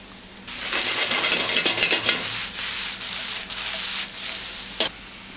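Mushrooms dropped into hot extra virgin olive oil and butter, a sudden loud sizzle that swells and crackles steadily with a few stirring scrapes and a sharp clink near the end, with no talking.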